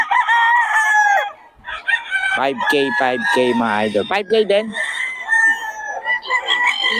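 Roosters crow loudly and repeatedly at an open-air chicken market, long quavering calls rising over one another, while people nearby talk and haggle.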